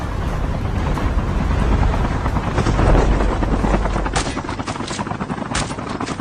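A helicopter in the video game Call of Duty Mobile thumps loudly and continuously nearby, with sharp bursts of gunfire crackling over the rotor noise toward the end.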